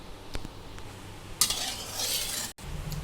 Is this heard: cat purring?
no